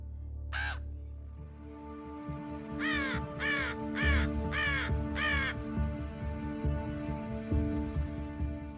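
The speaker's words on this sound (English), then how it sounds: "A common raven arrives soon after, reading the mountain in its own way." A common raven calls in high alpine mountains, one harsh croak and then five rapid caws in a row. A low rumble runs steadily underneath.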